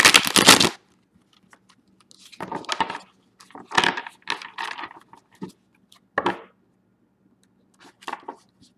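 Close, crisp tarot card shuffling: a sharp opening riffle, then several bursts of flicking and tapping cards separated by brief silences.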